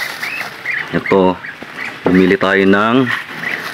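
Ducks quacking nearby in loud, raspy bursts, a couple of long calls between shorter ones, with a voice speaking briefly.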